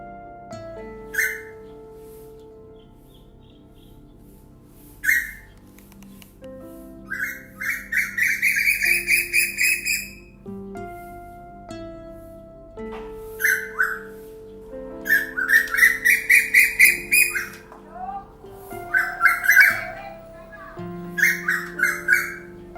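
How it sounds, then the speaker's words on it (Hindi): Repeated loud calls of a male koel, rising whistled phrases in bursts separated by pauses, close and clear against a quiet background of other faint chirps. "ये जो मीठी और गूंजती हुई आवाज है, ये मेल कोयल की है"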